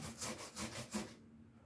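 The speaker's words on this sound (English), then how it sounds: "when it gets to a sharp point, then I just grind it down flat." A sharp point being ground down flat while preparing traditional Puerto Rican food, heard as four quick, close rasping strokes in a steady back-and-forth rhythm before stopping, with no voices.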